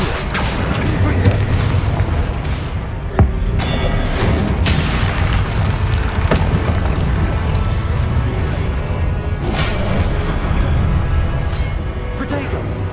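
Confringo blast spells exploding in the Hogwarts Legacy video game, heavy booms and crashes rising out of a dense, continuous wash of game sound, with voices underneath.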